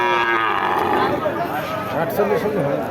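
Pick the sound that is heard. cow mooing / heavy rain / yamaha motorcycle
cow mooing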